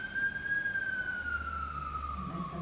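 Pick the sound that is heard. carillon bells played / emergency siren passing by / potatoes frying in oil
emergency siren passing by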